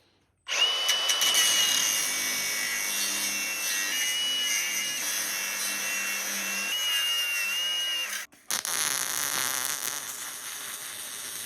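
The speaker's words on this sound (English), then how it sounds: "I'm going to put the cutting wheel back on and kind of grind out a V so I can get a nice fill of weld in there" A cutting wheel grinds a V-groove into a crack in a dump trailer, a loud, continuous whine lasting several seconds that briefly cuts out, then starts again.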